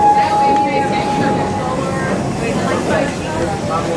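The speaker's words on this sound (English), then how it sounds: "our train is now slowly pulling into our Stanleyville station" The Serengeti Express train at Busch Gardens rolls slowly into Stanleyville station with a low, steady rumble and faint squealing, while a voice speaks over the rolling noise.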